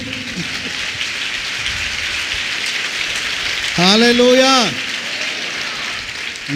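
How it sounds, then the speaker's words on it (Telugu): A prayer-meeting congregation claps loudly in a dense, continuous patter, and a single voice briefly calls out over the clapping midway through. "పెద్ద చప్పట్లో కూడా కొట్టండి"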